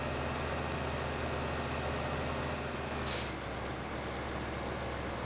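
Steady low engine drone of a mid-sized Lamborghini tractor in a farming simulator game, with a brief sharp hiss of an air brake releasing about midway.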